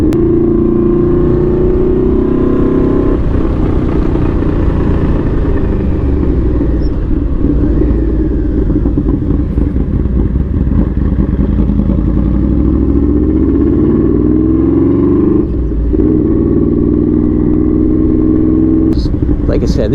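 A Yamaha V-Max motorcycle engine runs loud and close, a deep rumbling idle broken by throttle blips and revs that rise and fall, with a person talking over it.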